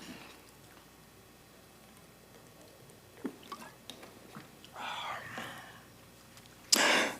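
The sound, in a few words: sipping water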